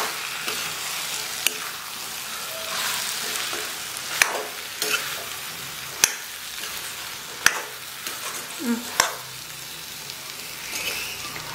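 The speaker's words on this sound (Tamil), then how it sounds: "2ஐயும் நல்லா இந்த மசாலாவோட வதக்கி விட்டுறலாம்." Mushrooms and green peas sautéing in masala, a quiet continuous sizzle with intermittent clicks and scrapes of a spoon stirring, close by and without speech.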